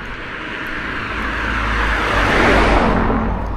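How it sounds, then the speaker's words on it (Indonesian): A car passes along a quiet street near a Japanese minimarket at 3 a.m., its broadband whoosh swelling steadily louder, peaking close by, then beginning to fade. "Oh, ini ada mobil lewat"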